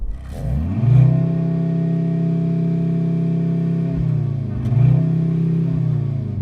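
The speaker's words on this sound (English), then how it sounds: "Rev your car, Nick." A Mercedes C63 engine revs hard twice, rising to a sustained held rev for about three seconds, dropping, then climbing again into a second steady rev, loud and close with a deep rumbling tone.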